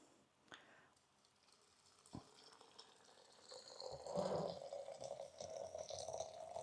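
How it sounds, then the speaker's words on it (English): Cold filtered water pours into a Mason jar with a rising, filling gurgle, preceded by a few light clinks and knocks. "then what we will do is we will add cold filtered water"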